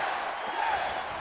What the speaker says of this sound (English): The crowd are feeling it now. They're on a journey.